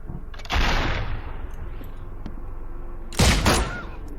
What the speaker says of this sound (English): And he's going to shoot me.